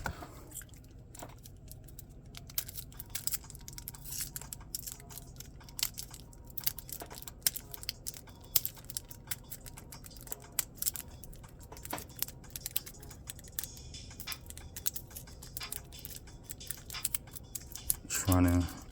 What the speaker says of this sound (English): Flip through the cards.